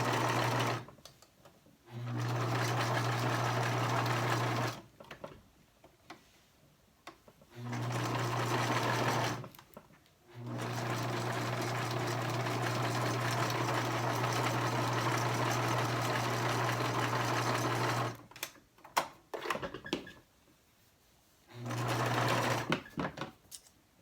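A sewing machine zigzag-stitches along the edge of a fabric face mask at a short stitch length. It runs in several close, steady whirring bursts of a few seconds each, separated by quiet pauses and small handling clicks.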